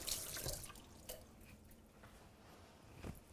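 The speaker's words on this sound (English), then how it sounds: "I'm going to rinse my hands and then we'll check the meatballs." Hands being rinsed under a running kitchen tap while making turkey meatball lettuce wraps, a faint steady stream with small splashes and drips, no talking.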